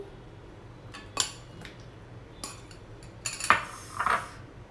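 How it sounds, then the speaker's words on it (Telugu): Cooked pasta being moved into a bowl in a kitchen, with a few sparse clinks and scrapes of utensils against dishes, faint and intermittent. "నెక్స్ట్ ఈ పాస్తా అంతా ఒక బౌల్లోకి ట్రాన్స్ఫర్ చేసుకోవాలండి"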